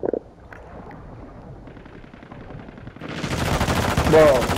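Call of Duty: Warzone 2.0 gunfire: muffled shots and movement give way to a loud, sustained burst of rapid automatic fire that fills the last second and a half.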